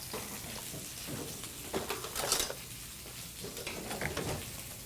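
Pork chops sear in a hot pan with a steady close sizzle, brief stirring and scraping sounds rising over the frying now and then, no voices.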